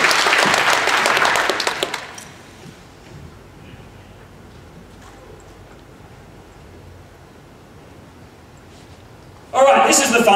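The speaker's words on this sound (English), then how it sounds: "Give Mandy a round of applause, please." Brief audience applause at a sales club event, a dense burst of clapping lasting about two seconds before dropping to quiet room tone, with another loud burst at the very end.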